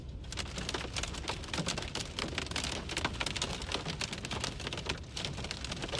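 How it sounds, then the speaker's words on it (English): Hail pelting a car while driving in Colorado, a dense continuous rattle of hard pellets drumming on the vehicle body, loud and unbroken with no voices. "A lot of hail coming down right now."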